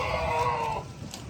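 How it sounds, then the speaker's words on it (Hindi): A large goat among livestock at the Bhata Chowk goat market in Islamabad, bleating in a short drawn-out call over the low rumble of the crowded market. "ये देखें माशाल्लाह काफ़ी बड़ा है ये वाला बकरा।"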